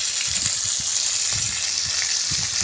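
Chicken necks sizzle as they fry in their own rendered pork fat, with no water or added oil, giving a steady, close hiss of spattering grease and small crackles throughout.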